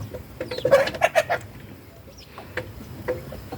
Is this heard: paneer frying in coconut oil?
no